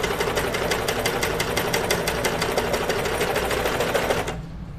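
A convertible overlock sewing machine stitches sweatshirt fabric in a steady rapid mechanical chatter, running close and continuous before stopping abruptly near the end.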